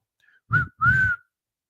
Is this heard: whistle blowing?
yes